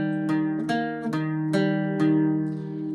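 Irish bouzouki picking a phrase of The Glasgow Reel, bright ringing plucked notes in a lively reel rhythm over a sustained drone, played close and alone.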